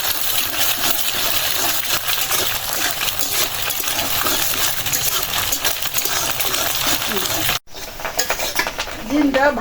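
Steady crackling sizzle of egg frying in a hot pan, continuous and close, with a brief cut near the end and faint clinks.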